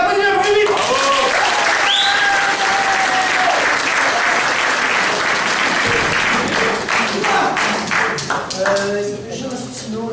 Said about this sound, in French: On applaudit un premier livre!